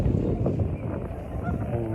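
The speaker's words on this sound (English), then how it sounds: "Noisy Goose just here as well," Honking from a goose beside a canal at Salford Quays, several close calls mixed with rumbling wind noise on the microphone and outdoor waterside background.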